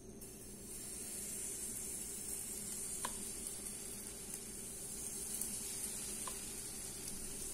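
A spoonful of batter for patishapta pitha sizzles softly and steadily in a hot pan, a quiet continuous fry with a couple of faint small clicks, no talking.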